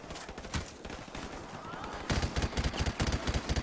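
Rapid bursts of rifle fire in Call of Duty: Modern Warfare Remastered, a dense volley of shots that turns louder and more punchy in the second half, with repeated sharp cracks close by.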